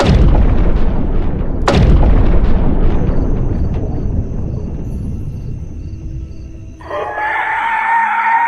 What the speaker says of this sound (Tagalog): Nagulat na lamang sila nang biglang may mga pagsabog na naganap sa kanilang likurang bahagi.